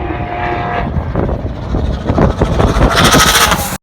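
The TGA Performance Subaru WRX race car, driven by Jake Graham and fitted with twin wastegates, roars loudly at a racetrack, its engine rising and building in intensity before cutting off abruptly.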